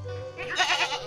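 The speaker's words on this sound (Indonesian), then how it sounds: "ini adalah kambing benggala ya sahabat" Bengal goats in a village bleat close by in a short, wavering call that rises out of a low, steady outdoor background.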